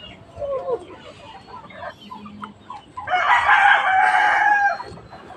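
A Rhode Island Red chicken, a mature bird, clucks softly in short notes and then lets out one loud, drawn-out crow close by, with no talking.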